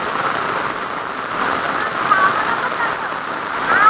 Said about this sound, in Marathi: आपली लावणी चालू आहे आणि पाऊस आला आहे.